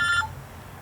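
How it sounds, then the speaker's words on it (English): A mobile phone rings in a workshop where a moped's carburetor is being worked on, giving a short burst of bright electronic tones that stop after a fraction of a second, followed by quiet room noise. "Of course, my phone's ringing."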